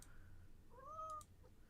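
A cat gives a single soft, rising then falling meow indoors, faint and close, over quiet background hum.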